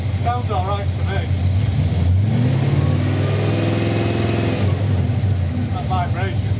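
A Dart car engine with a vibration fault, under ignition timing adjustment, revs up strongly for a couple of seconds from a steady running note, then drops back down; brief talk is heard before and after the rev.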